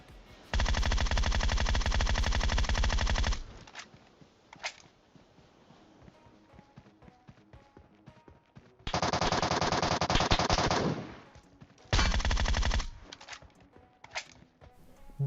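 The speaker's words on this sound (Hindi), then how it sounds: "भाई या तो मेरे पाँव पे गोलियां पेल रहे थे या तो बंदा सिर्फ और सिर्फ गाड़ी फोड़ने की कोशिश कर रहा था।" Gunfire in the mobile game PUBG Mobile comes as three loud bursts of rapid automatic fire, with scattered single shots and faint clicks in the quieter gaps between them.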